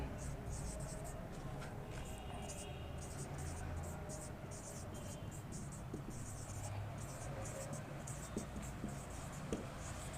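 Faint, scratchy strokes of writing on a board during a physics lecture on mechanical properties of fluids, soft and continuous under a quiet room tone.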